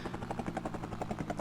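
Helicopter in the Amiga game Rescue, a steady, fast pulsing rotor chop that holds evenly and carries no talk.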